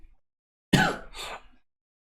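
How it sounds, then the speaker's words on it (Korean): A single harsh cough or throat-clearing burst, close and fairly loud, followed quickly by a second rougher burst, with quiet before and after. "가끔 기침 나올 수 있어요."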